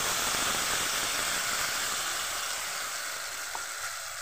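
Garlic paste for a momo chili sauce hits hot oil in a pan, giving a loud, steady hissing sizzle that slowly eases over a few seconds.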